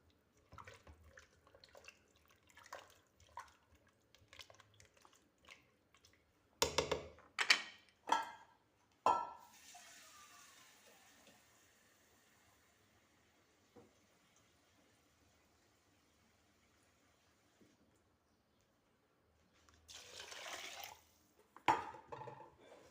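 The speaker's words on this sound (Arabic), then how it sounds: "دروك نمرقو هكا بالماء سخون او الماء حامي هكا" Hot water is poured and swished while rinsing in a kitchen during soup preparation, heard as scattered splashes and drips, then a couple of louder pouring bursts separated by quiet stretches.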